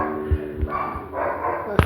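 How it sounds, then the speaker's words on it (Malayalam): A dog outside a house gives a few quick barks, short sharp yaps over a low background murmur, fairly close. "പെട്ടെന്ന് എന്തിനോ പട്ടി കുരയ്ക്കുന്നു."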